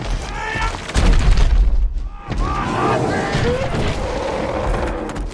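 A dramatic film sound design effect that plays while the ring is on screen, with deep booming rumbles and swelling tonal layers that carry on continuously, plus a voice talking at times.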